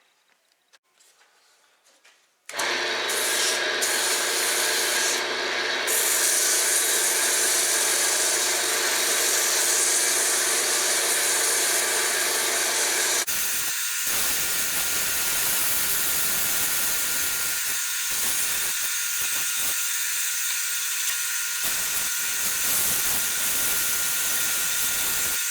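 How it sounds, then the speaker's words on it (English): A wood lathe spins steadily while turning a new handle, a loud continuous whirring drone running the whole time, with the tone shifting midway as the cutting tool bites into the wood and scrapes in uneven bursts. "let's get back to the lathe"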